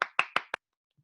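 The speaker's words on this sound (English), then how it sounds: "I was just clapping" Four quick hand claps in a steady rhythm, close and crisp, then silence.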